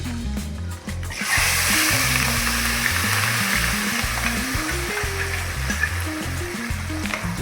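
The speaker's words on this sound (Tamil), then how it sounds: "இந்த மசாலாவை வந்து எண்ணெயோடு சேர்த்திக்கலாம்" Ground masala paste for fish curry hits hot oil and sets off a loud, continuous sizzle, with stirring scrapes and shifting crackle running through it right up close.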